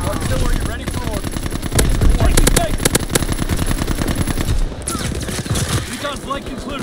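Rapid machine-gun bursts and overlapping gunfire fill a video game battle, loud and nearly continuous, with a brief lull before the shooting resumes, while a game voice announces alerts over it.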